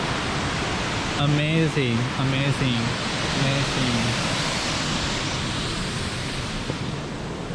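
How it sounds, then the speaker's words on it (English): Cheonjeyeon waterfall in Jeju roars as a loud, continuous broadband rush of falling water that fills the scene, with a person briefly speaking over it near the start. "And you can hear only the bird sound, the sound of the water, and just the nature"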